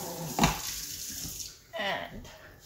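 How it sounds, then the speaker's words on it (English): Water from a tap splashes into a pot as it is rinsed out outdoors, two short bursts of close running water separated by a brief pause. "Now we're gonna rinse this out."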